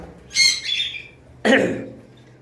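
A pair of pineapple conure parrots gives two sharp, harsh squawks close by, a short gap between them, with quiet in between.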